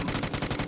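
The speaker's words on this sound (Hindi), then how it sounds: "इधर गोलियां चलने की आवाज़ आ रही है मुझे" Rapid automatic gunfire in PUBG on PC during solo-versus-squad play, a quick even burst of about six shots, faint and distant with no talk.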